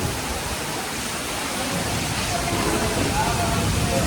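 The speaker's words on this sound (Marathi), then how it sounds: "पाऊस पाहू शकता किती जोरात पडतोय तो वारा पाऊस दोन्ही एकत्र आहे" Dense, steady roar of heavy rain driven by wind outside a hotel in Akkalkot, a constant wash of noise throughout.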